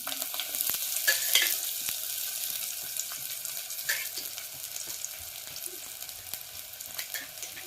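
Oil is poured over onions browning in a pan for a brinjal palya, giving a soft, steady sizzle with light crackles and a brief swell early on, and no voices.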